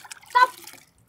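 Liquid is poured in one short splashing burst that swells and then trickles away, close and fairly quiet, with no talk over it.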